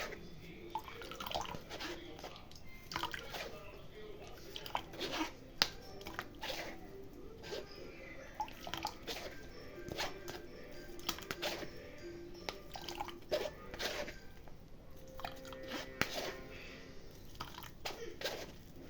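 Irregular drips of rose apple juice falling close by, soft wet taps scattered over a quiet background.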